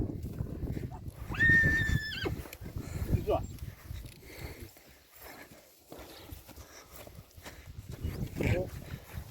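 Horses move about with soft hoof clops, and one gives a high whinny early on, while someone talks over the scene outdoors.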